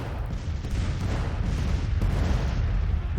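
Continuous rumbling cannon artillery fire from the Civil War strategy game Grand Tactician, a dense, loud wall of distant booms and crackle with no talk.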